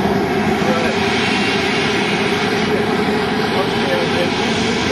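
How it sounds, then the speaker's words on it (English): A Citation business jet at Atlantic City spools up its engine, producing a loud, steady roaring whine that holds constant across the whole stretch, heard from nearby. "The engine is spooling up."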